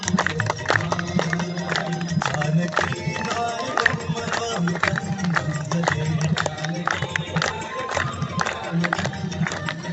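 Crowd at a Ganga Aarti on the riverbank clapping along in steady rhythm, dense repeated claps filling the whole stretch with a low drone and voices underneath.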